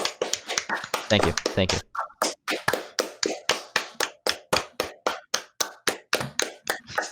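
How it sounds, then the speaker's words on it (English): A single person clapping in a steady rhythmic beat, close and fairly loud, with a voice speaking briefly over the start. "This is where you scream and applaud."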